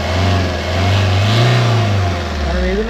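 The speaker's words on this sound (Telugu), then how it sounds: "మనం రన్నింగ్లోనే ఉంటుంది వెహికల్." A Maruti Ertiga's engine runs steadily at an auction car inspection, rising in a smooth rev and settling back, loud and close throughout with no talk.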